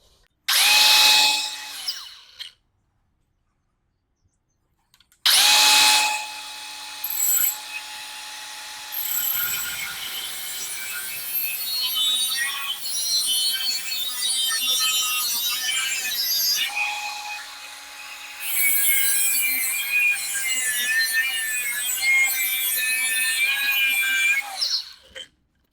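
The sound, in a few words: angle grinder cutting a car exhaust pipe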